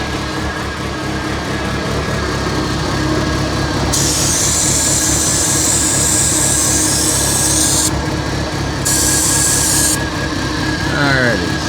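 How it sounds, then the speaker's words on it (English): Brake cleaner hisses in long aerosol bursts against the underside of a 1985 Merkur XR4Ti, two sustained sprays over steady rubbing and rattling shop noise, close and fairly loud. "I'm going to brake clean the whole bottom here and see if anything kind of shows up after I brake clean it off"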